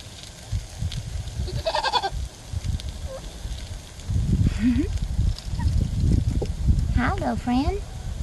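A goat bleats a few times, short wavering cries close by, amid rustling, footsteps and occasional murmured talk.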